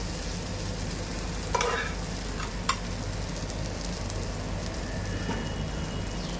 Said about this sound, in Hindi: थोड़ा सा बटर डाल देंगे, इस तरीके से इसको अच्छे से गोल्डन ब्राउन कर लेके निकाल लेंगे हम